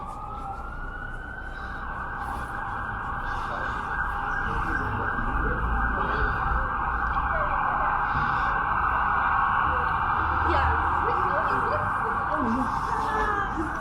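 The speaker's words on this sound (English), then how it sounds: "There's been pretty much continuous sirens ever since I began the video" An emergency siren wails steadily and loudly in the distance over downtown Toronto street traffic, sustained throughout with a faint rising and falling tone.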